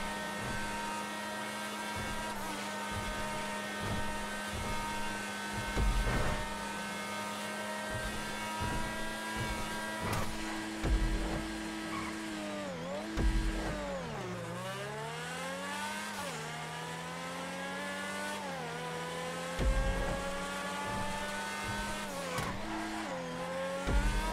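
Race car engines in a racing video game howl close and continuous, rising and falling through gear changes, with a deep dip and recovery midway and occasional thumps and brief tire squeal.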